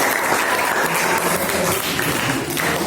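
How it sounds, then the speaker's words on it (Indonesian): A school class bursts into loud, dense, continuous applause, many hands clapping at once for a few seconds with no pauses. "Kasih tepuk tangan dulu."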